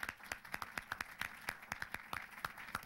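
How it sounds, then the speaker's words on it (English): An audience at a book discussion on Ronald Reagan breaks into steady clapping, a dense run of sharp claps repeating across the room at moderate level, with no talk over it. "They're cheering for the child."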